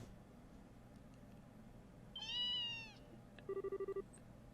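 In the video game Trails in the Sky the 3rd, a single clear cat meow rises and falls, followed by a quick series of short electronic beeps over quiet background music.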